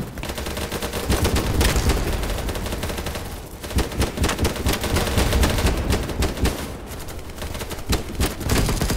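Dense automatic gunfire in the online shooter BattleBit, rapid overlapping bursts of shots that are loud and close, with a brief lull near the middle before the firing resumes.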